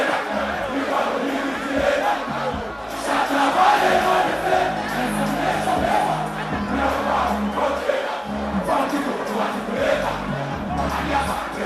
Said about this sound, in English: The sing-alongs were resounding.